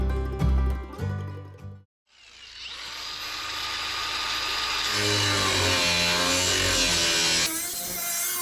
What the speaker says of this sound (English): We'll go and mark the other side up and break out the angle grinder.